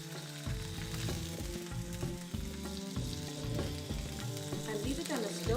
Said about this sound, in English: oil is heated up, then you put the fish in the pan